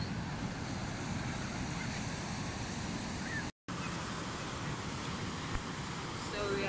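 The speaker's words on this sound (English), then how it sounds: "So we are at the Lendano Beach" Ocean surf rolls steadily onto a beach in Cape Town as a broad continuous wash, with wind buffeting the microphone and no distinct voices.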